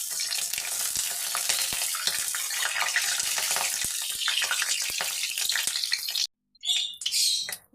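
Cumin seeds hit hot oil in a wok and break into a loud, dense sizzle with scattered pops and clicks. The sizzle cuts off abruptly near the end, then resumes in short bursts.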